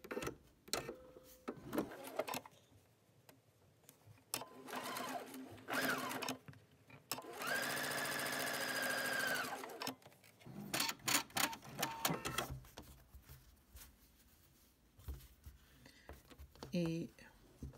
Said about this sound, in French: je m'installe et je vais aller coudre.